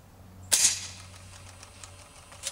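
A single sharp air gun shot cracks out close and loud, followed by a brief mechanical rattle and a faint low hum that fades after two seconds, with a softer click near the end.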